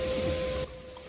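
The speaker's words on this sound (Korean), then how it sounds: "청소기를 쭉 땡겨요. 쭉 빨아들이죠." A vacuum cleaner sucks up standing water from a flooded basement floor, giving a steady, loud motor whine with a hissing rush that cuts off abruptly partway through, leaving quieter room noise.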